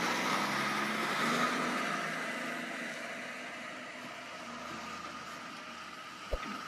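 A big rig hauling several trailers rolls in alongside at a rest area, a steady broad engine and road rumble that slowly fades, ending with a brief sharp knock.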